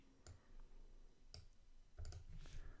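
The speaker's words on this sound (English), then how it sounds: "So using the keyboard now to be exactly on 50" Computer keyboard keys click in a few sparse, separate taps, close and quiet, while values are entered on a firewall configuration screen; no talking.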